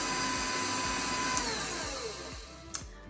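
An electric hand mixer whirs steadily while beating chocolate peanut butter cookie batter in a bowl, a continuous motor drone with rhythmic thumps as the beaters circle, and two brief sharp clicks near the end.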